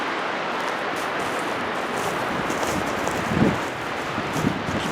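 Steady strong wind blows through a forest near a waterfall, a constant loud rush with slight gusts and rustling.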